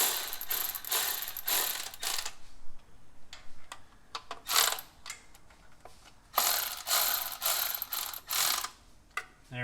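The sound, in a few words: ratchet snugging valve cover bolts on 1970 Chevy C10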